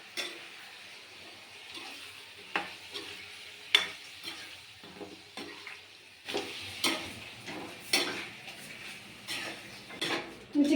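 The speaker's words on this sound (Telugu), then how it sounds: "చికెన్లో అయితే ఉప్పు అయితే వేసేసి కలిపేసినాం కదండి" Salted chicken pieces are stirred in a cooking pot with a metal utensil, giving irregular scrapes and clinks against the pot over a soft sizzle, close and moderately loud.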